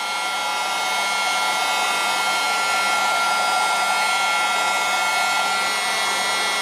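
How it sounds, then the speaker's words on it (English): A Honkyob keyboard vacuum runs steadily and loudly for the whole stretch, its constant whining motor hum and airflow hiss never changing in pitch, used while cleaning up loose ballast on a scale model. "It's not the most strong vacuum in the world"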